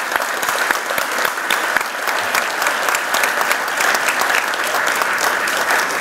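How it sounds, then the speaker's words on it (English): A banquet audience at a community awards dinner claps steadily, a dense, loud wash of applause that holds without a break. "So, a warm welcome, great applause for everybody here."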